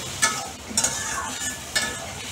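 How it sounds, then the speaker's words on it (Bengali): Spice masala for a prawn curry with potatoes and drumstick stems is stirred in a hot pan, producing a constant sizzle with a few sharp spoon scrapes against the metal. "মশলাটা একটু আমি নেড়ে গুলিয়ে।"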